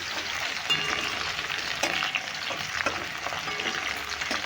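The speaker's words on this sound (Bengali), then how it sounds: "এইভাবে নেড়ে চেড়ে ভেজে নিচ্ছি" Whole okra fries in a pan over a medium flame, a steady close sizzle broken by soft scraping and clinks as the pieces are stirred, with no one speaking.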